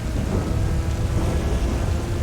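Heavy rain with a thunderstorm in GTA 5 Online, a dense continuous roar of downpour with deep rumbling underneath, loud and steady without talking.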